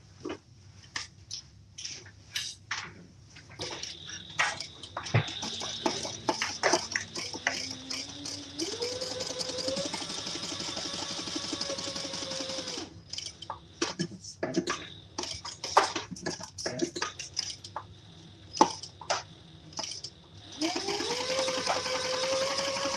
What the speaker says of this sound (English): I'm just gonna sew down each side.